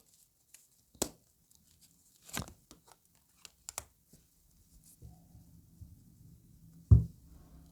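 Tarot cards shuffled by hand in a quiet room, giving a few sparse, sharp papery snaps and rustles spread out with silent gaps and a final heavier slap.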